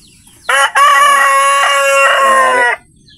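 A single loud rooster crow rings out close by at a small backyard chicken farm, one long drawn-out call lasting a couple of seconds, with a brief break near the start.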